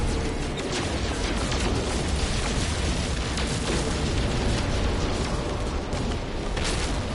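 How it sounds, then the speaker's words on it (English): An enemy ship explodes in No Man's Sky, a sustained, loud, roaring blast of broadband noise that fills the whole stretch without a break. "Kaboom!"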